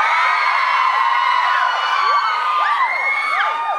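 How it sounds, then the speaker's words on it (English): A large audience at a fan event in Manila yells and cheers loudly, a dense sustained roar of many voices with rising whoops and shrieks throughout. "It's amazing how you guys yell so loud"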